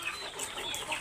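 Farm chickens and a rooster give short, soft clucks, low in level over a brief moment with no talk.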